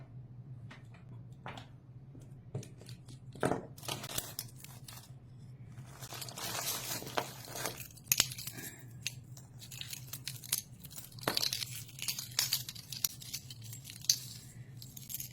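A broken plastic item is handled up close: intermittent crinkly clicks, scrapes and snips scattered through a quiet background with a low steady hum, no talk.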